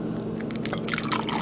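Filtered water poured into a sourdough starter, a close continuous trickle with splashy droplets that grows slightly louder over a second and a half, no talk.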